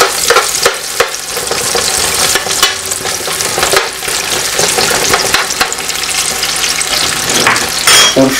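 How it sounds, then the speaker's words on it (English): Onion stirred and fried in a pan for leeks with rice, a steady loud sizzle broken by repeated scraping stirs throughout, close and with no talk. "We stir a little the onion."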